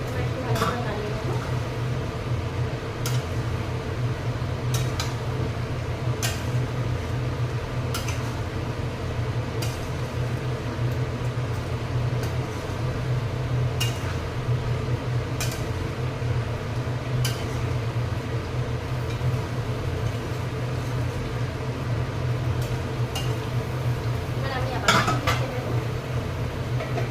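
A spiced curry is stirred in a cooking pot, giving intermittent scrapes and clinks of a spoon against metal over a steady low hum of background appliance noise at moderate level.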